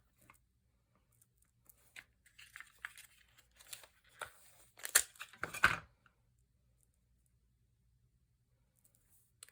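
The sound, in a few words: tearing and applying Post-it tape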